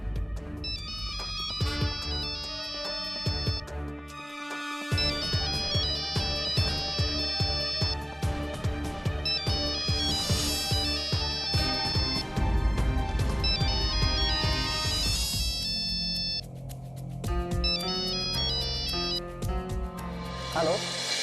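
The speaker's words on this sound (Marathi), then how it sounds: "विद्या विद्या अगं फोन घे." A home telephone in a Marathi TV serial rings with a loud, continuous melodic electronic ringtone that repeats for about twenty seconds, with brief pauses, alone in the room.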